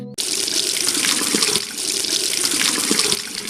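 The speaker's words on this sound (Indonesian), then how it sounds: "Pakai keran air yang di taman saja." Cartoon water gushing steadily from a garden tap, a loud, close splashing stream that starts abruptly and runs without a break, with no talking.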